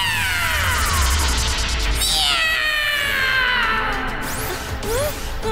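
A cartoon cat meows in a run of drawn-out, wavering cries, loud and close, with no talking over it.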